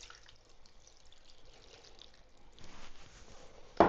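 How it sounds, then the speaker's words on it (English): Beef broth poured into a crockpot, a soft trickling and splashing that grows fuller and louder toward the end, heard close with no voices. "you're going to put 2 cups of beef broth"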